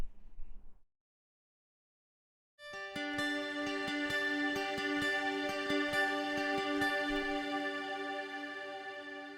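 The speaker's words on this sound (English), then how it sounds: "A very shimmery acoustic guitar" Double-tracked acoustic guitar, one track miked close with a Shure SM7B and processed through a Big Sky reverb, plays shimmering sustained swells with a long wash of ringing harmonics after a short pause, steady and close.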